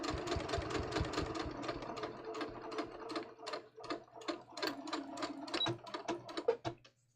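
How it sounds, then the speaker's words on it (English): Sewing machine stitching a pocket bag of double-faced linen knit for shorts: a close, rapid run of mechanical needle clicks in bursts, pausing briefly and restarting, fairly quiet with no talk. "I stitched right onto the pocket bag."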